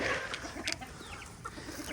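Roosters cluck softly nearby in a rural yard in Pangasinan, short clucks and a brief squawk over a low background hum.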